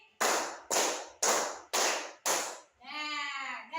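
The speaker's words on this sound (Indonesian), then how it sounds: "Oke, tepuk tangan 5 kali." Children in a classroom clap their hands together five times in a steady, even rhythm, each clap sharp and loud, followed by a brief burst of voices.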